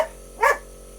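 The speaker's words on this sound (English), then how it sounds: "She just doesn't even know where she's barking at." A single short dog bark sounds at moderate distance against a steady indoor background hum, with no talking.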